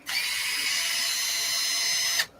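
A power drill whines at a steady high pitch for about two seconds, then stops abruptly.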